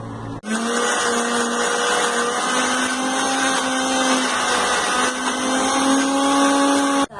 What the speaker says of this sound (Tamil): ஆறுனதுக்கப்புறம் நம்ம அரைச்சிக்கணும்